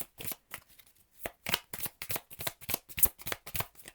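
Oracle cards being shuffled by hand make a rapid run of crisp riffling bursts in a steady rhythm, close and moderately quiet, with no voice over them.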